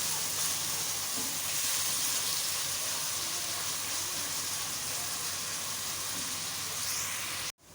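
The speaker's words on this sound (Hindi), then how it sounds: "प्याज को ज़रा गोल्डन ब्राउन सा करें, कच्चा नहीं रखना बिल्कुल भी" Steady, loud sizzling of onions frying in hot oil toward golden brown, a constant crackling hiss up close, cutting off abruptly near the end.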